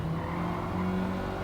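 A car in Gran Turismo 7 brakes hard and drops down into second gear, its engine note falling and shifting over a brief, steady roar with faint tire noise.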